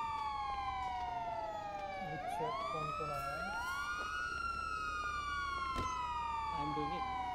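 Loud overlapping emergency vehicle sirens from a video game wail and sweep in pitch throughout, with brief voices talking underneath.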